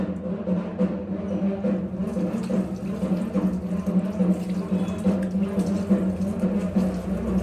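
Water runs steadily from a kitchen tap while someone washes their face, a continuous splashing flow that stays at the same level throughout.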